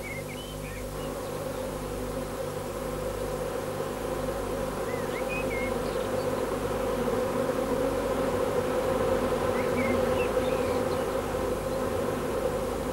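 Worker honeybees buzz inside a hive, a dense, continuous droning hum that holds steady and close throughout, with faint chirping notes above it and no speech.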